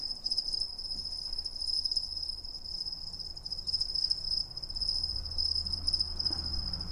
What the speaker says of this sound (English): Sounds like nighttime, you know, crickets and stuff.